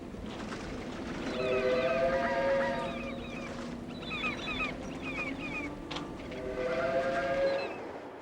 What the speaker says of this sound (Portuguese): Este trem de carga transporta uma expedição de combustível irradiado, proveniente de uma usina nuclear.